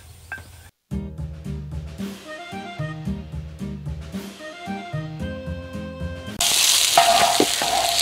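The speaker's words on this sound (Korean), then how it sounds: "우리 지금 양파를 많이 볶았으니까" Onions stir-frying in a pan while curry is cooked, with a steady sizzle and clinking stirring that grows louder and hissier near the end.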